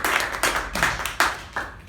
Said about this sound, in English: Can we have a huge round of applause for that?